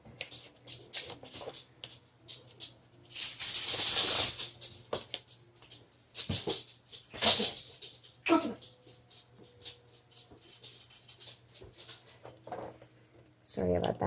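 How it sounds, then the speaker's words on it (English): A pet dog wanders around a room where an origami gift box is being folded, her collar jingling and rattling in scattered bursts of clinks and shuffling, fairly close, with quiet gaps between. "my doggy just likes to come in here and hang out, making a lot of noise with her collar"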